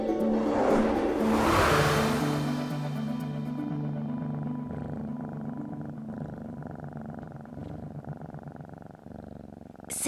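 A close, steady rumbling purr continues throughout, with a brief airy whoosh near the start and no talking.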